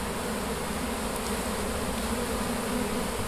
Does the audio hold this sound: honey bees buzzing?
yes